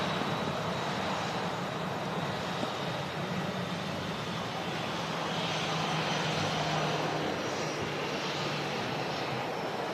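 A Boeing 737 airliner at Manchester Airport, with a steady, loud broadband jet engine roar running throughout at close-to-medium distance, without any talk.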